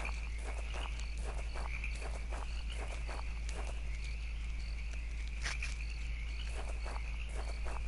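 Footsteps crunch repeatedly at a steady walking pace against a constant chirping of crickets and a low background hum.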